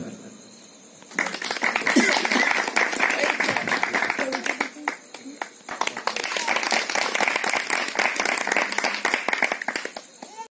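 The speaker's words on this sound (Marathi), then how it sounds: "सर्वांचं टाळ्या वाजवून आपण सुद्धा स्वागत करावं जोरदार" A crowd claps in welcome at a Buddhist community gathering honouring Mata Ramai's birth anniversary; after a brief quiet start, loud, dense applause swells and continues, dipping briefly midway before resuming.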